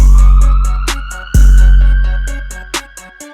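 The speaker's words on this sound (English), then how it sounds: "in this section, you just have that siren coming in" A police siren sample threads through a loud hip-hop music track with heavy bass and rhythmic percussion hits, the siren rising and holding over the beat.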